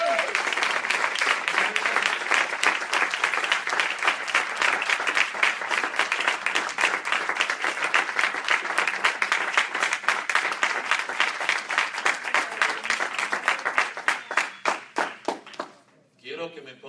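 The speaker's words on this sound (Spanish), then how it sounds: "Dale un aplauso al Señor." Loud, sustained applause from a church congregation, energetic clapping that gradually takes on a rhythmic pulse before thinning out and stopping near the end.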